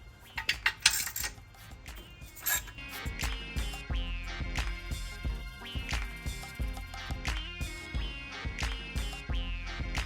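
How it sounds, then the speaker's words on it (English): Metal bolts and hand tools clink and rattle in quick, irregular bursts while being removed from a turbocharged SN95 Ford Mustang, close and fairly loud, with no talking. "Let's take these bolts off."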